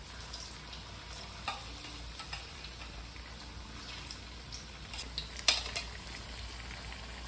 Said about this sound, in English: So we're frying platanos and the amarillo